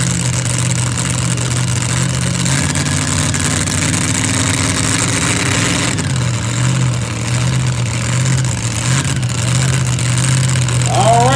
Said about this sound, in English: Checking all them cylinders. This is a brand new rebuilt engine right here.